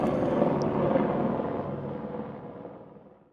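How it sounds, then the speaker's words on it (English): A helicopter passing overhead makes a low, rumbling drone that slowly fades away over a few seconds. "Helicopter overhead."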